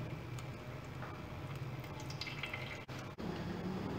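Boiled tomato puree being strained for homemade ketchup gives a steady, soft wet dripping and trickling, with faint squishy movement throughout and two brief dropouts near the end.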